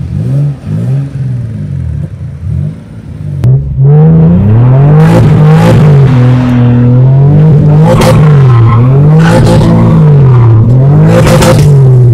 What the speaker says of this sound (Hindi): अब हम जो है इसके यू टर्न पे गाड़ी टेस्ट करने लगे हैं